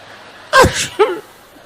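A single close sneeze with a sharp, breathy burst followed by a short voiced tail, loud against a quiet room.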